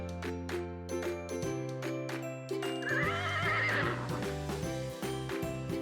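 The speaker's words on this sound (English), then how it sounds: "Horse," A horse neighs with a rising, quavering whinny over a bright tinkling musical backing, with a few hoof-like clops, as a sound effect in a children's animal-names learning piece.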